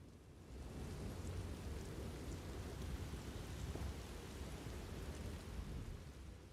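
A storm in Elder Scrolls Online brings steady, dense rain hissing on surfaces with a low rumble of thunder underneath, constant and enveloping for several seconds with no voices.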